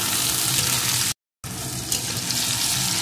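Chopped tomato and slit green chillies fry in hot oil for a fish curry, giving a loud, dense, continuous sizzle broken by a short silent gap, close and without talk.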